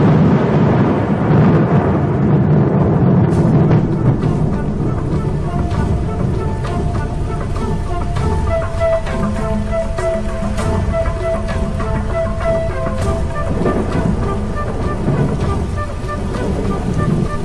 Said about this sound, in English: the promised rain arrives at last